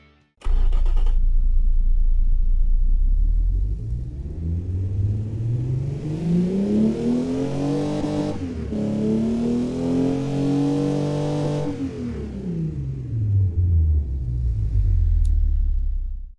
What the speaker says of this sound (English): let's give you a listen of what this engine sounds like right now